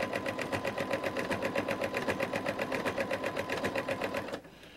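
Sewing machine fitted with a ruffler attachment stitches fabric in a fast, steady rhythmic chatter with a slightly clunky mechanical pulse, close and continuous, stopping abruptly near the end.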